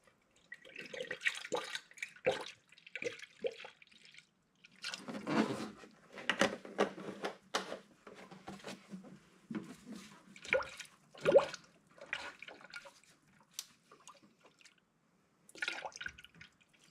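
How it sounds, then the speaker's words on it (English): Coolant draining from a 2006-2011 Honda Civic during a thermostat replacement, with irregular drips and splashes arriving in clusters, fairly close and quiet, separated by short silences. "You will spill some coolant and make a little bit of a mess"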